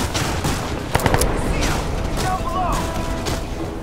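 Heavy automatic gunfire from a gun in the video game Crysis 2 Remastered, a steady loud stream of shots with a few sharper cracks, under spoken commentary and game noise.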